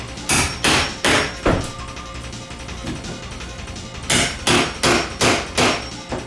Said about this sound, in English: So then you just hammer it in like so.